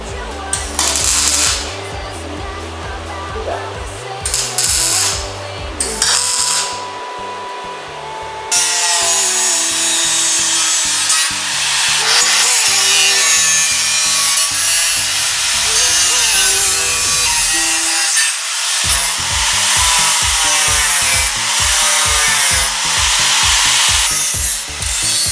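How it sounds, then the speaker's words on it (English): Hand work on a sheet metal rear overfender for an RB25-swapped S13: rapid repeated metallic hammering and pressing strokes, loud and close, with bursts of dense rhythmic tapping alternating with scraping and grinding-like stretches. "what I'm going to start doing now is pressing it up, you know, hammering it a little bit more, pressing in places"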